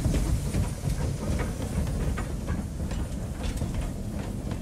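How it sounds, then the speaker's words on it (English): A train on the Zig Zag Railway in the Blue Mountains rumbles steadily along the line, a continuous close heavy roar with faint rhythmic clatter and no voices. "The engine pulls the train down one long, straight section."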